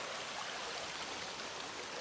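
A creek flows steadily on a North Carolina hiking trail, a soft continuous watery rush with no other sounds, heard faintly throughout.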